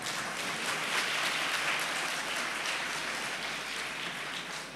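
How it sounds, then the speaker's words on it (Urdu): A church congregation applauds during an Ash Wednesday service at St. John's Catholic Church in Youhanabad, Lahore, a dense, steady wash of clapping that holds for several seconds with no voices over it. "یہ لوگ تالیاں کیوں بجا رہے ہیں"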